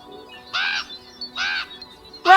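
Cartoon crow in an animated fairy tale cawing, two harsh caws about a second apart and a third starting at the end, loud and close with no talk.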